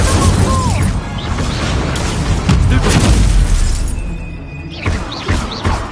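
Spell impacts in Hogwarts Legacy, with an Incendio fire spell cast amid crashing, shattering bursts and booms, loud and close, followed by sharp hits near the end.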